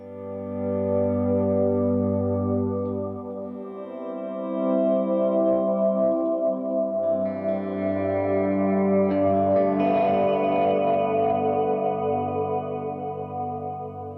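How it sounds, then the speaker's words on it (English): Sustained ambient pad from an electric guitar through reverb and delay pedals: layered chords swell and blend into a washed, echoing drone, with a shift in harmony partway through and a shimmering smear of repeats, no voices. "So this is what my pad sound that I use sounds like."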